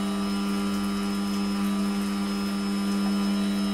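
Steady droning hum of a meat mincer grinding mince as the meat begins to squash, a constant loud motor whine with strong tonal bands and no break over a few seconds.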